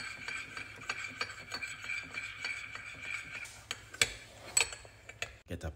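A spoon stirring a small mix of lemon juice and olive oil in a container, giving light, quiet clinks and scrapes that tick along steadily, with a few sharper taps near the end.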